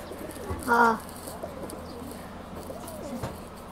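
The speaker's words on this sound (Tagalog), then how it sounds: "Ito yung dalawang kalapati ko." A pigeon gives a loud, close coo, followed by softer cooing and faint bird sounds over low background noise.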